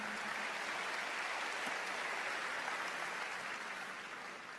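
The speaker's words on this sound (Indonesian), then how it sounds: "Berikan tepuk tangan" Church congregation applauding during a sermon, a soft, even wash of many hands clapping at a distance, sustained throughout without pause.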